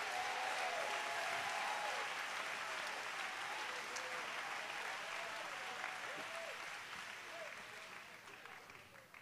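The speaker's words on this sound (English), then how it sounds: "Come on, clap your hands unto the Lord if you know it's right." Church congregation clapping hands during an evening camp meeting service, steady dense applause running throughout, with faint voices and singing tones underneath, gradually tapering near the end.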